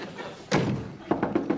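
A door knock: one heavy thump on a door, then after a pause a quick series of four sharper raps, close and clear, with no talking over it.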